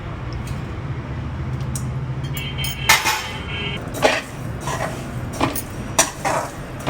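Coriander seeds, black salt, dry ginger and other spices being dry-roasted in a pan, with a steady low scraping and a run of sharp metallic clinks as a utensil strikes the pan.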